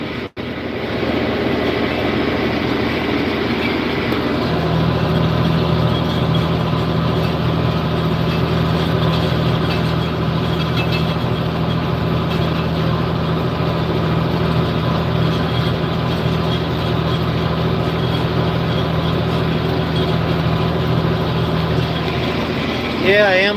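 A 1990 model 4255 tractor engine idling during field planting, a steady low diesel drone with a constant hum running throughout, loud and close, with a voice heard over it.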